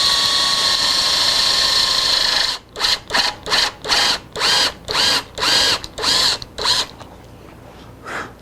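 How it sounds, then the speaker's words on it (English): A drill bores through the headstock plate on a 1964-style ES 335 guitar build, first in one long steady run, then in about ten short, evenly spaced loud bursts that stop and start. "doing this part here, the drilling, while it was on the guitar"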